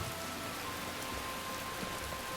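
Steady rain falls in Riverwood in the video game Skyrim, a dense, even patter with no talk over it.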